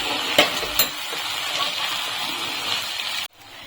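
Crushed peanuts being stirred into soaked sabudana in a pan for sabudana pulao, with soft scraping and a couple of spoon knocks against the pan over a light sizzle, ending abruptly.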